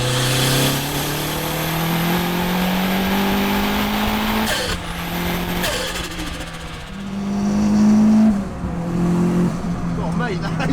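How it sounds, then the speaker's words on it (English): A Renault Clio 182 turbo pulls hard through the gears, its engine note rising steadily with short breaks at the shifts. A turbo whistle and flutter are heard from inside the car, with voices talking over the engine. "The last thing you expect to hear is a turbo whistle."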